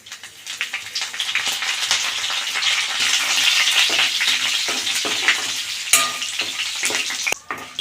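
Curry leaves hit hot oil in a tempering for ivy gourd and onion curry, setting off a loud, crackling sizzle that rises and stays busy, with a few sharp pops near the end.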